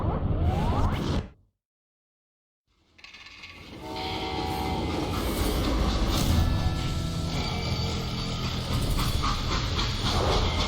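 A freight train in Call of Juarez Gunslinger: a brief noise, then near silence, then a loud rumbling, clattering run of rail wagons that swells and holds steady, with no voices.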